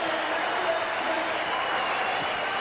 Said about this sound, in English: They're cheering as though every basket were his last